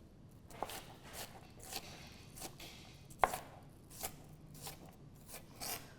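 A knife roughly chops half an onion on a cutting board, with quiet, irregular knocks spaced about half a second apart and one sharper hit in the middle.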